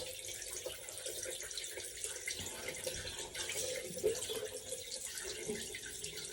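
Cold tap water runs steadily into a sink while someone wets their face, a continuous splashy wash with small surges, moderately loud and close, with no talking.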